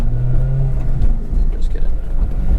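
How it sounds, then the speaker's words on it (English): An Acura RSX with an aftermarket exhaust louder than stock gives a steady, loud low rumble from close by, with a brief tone near the start and no talk over it. "Yeah, I love this exhaust though. Very, very good. It's a little louder than most."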